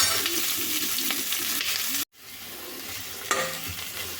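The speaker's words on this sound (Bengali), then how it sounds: "পাঁচ মিনিটের মতো হালকা আঁচে ভেজে নিচ্ছি" Onions and capsicum fry on low heat in a pan with a continuous gentle sizzle. It cuts out briefly to near silence, then resumes with a light knock of stirring.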